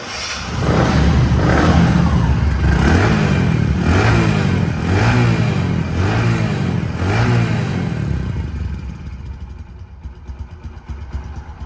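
A second-hand Bajaj Platina 110 motorcycle engine runs close by, rising and falling in a steady series of rhythmic revs before easing down quieter near the end, with no talking.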